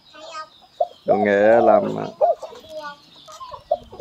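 A chicken being caponized gives a long loud drawn-out squawk followed by several shorter clucks, with a person talking intermittently around the calls.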